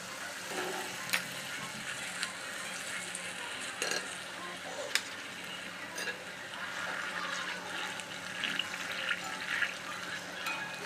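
Palm fruit (taal) pitha batter fritters frying in hot oil, with a steady bubbling sizzle and occasional crackling pops. The sound stays moderate and continuous throughout.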